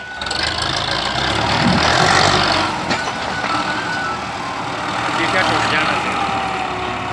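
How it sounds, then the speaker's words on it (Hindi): An MTZ Belarus MT 10 tractor's diesel engine runs steadily at a rumbling idle with a slight knock, loud and continuous throughout, while voices talk faintly nearby. "आज उन्हें ही ट्रैक्टर चाल सकता है।"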